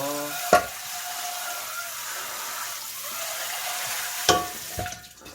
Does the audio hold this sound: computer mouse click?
no